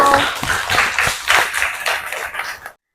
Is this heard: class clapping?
yes